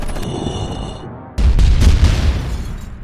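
A grenade detonates in a combat scene, a sudden loud boom that cuts in partway through after quieter buildup, followed by a rumbling, debris-filled roar that sustains at high level to the end.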